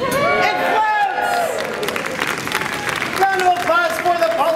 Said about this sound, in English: Round of applause for the bowling ball.